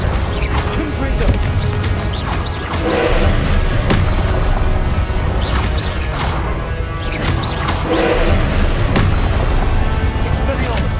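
Booming spell blasts and crashes from Hogwarts Legacy combat, with Confringo explosions landing repeatedly amid continuous rumbling effects and shouted incantations over the top.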